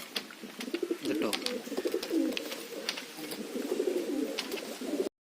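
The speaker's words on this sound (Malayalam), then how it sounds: "ഇത് പെടപ്രാവാണ്" A female pigeon coos in low rolling bursts over about five seconds, close and fairly quiet, with sharp little clicks and rustles scattered throughout.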